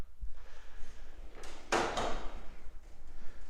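A Snap-on tool box drawer holding screwdrivers, pliers and hammers slides open with one quick metallic rolling swoosh, set against quiet shop ambience.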